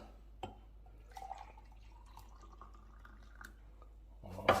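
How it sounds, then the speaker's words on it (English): Coffee trickles and drips softly into a glass, with a brief clink at the start and a louder splash of pouring near the end. "Get some coffee in my glass."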